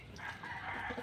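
Chickens crow and cluck faintly in the distance near a flooded yard, a brief quiet rooster call over low background noise.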